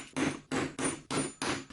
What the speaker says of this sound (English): So now I'm gonna punch all of these holes.